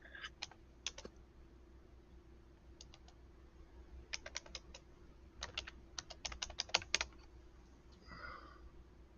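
Irregular bursts of key clicks from a computer keyboard being typed on, some quick runs and isolated taps, fairly faint over a steady low hum with no talking.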